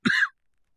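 A single short cough sounds close to the microphone, followed by silence.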